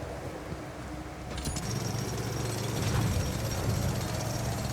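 Metal mining in The Alters video game with a sped-up time-lapse effect, a mechanical drilling rumble with a sharp metallic onset that grows louder and continues steadily.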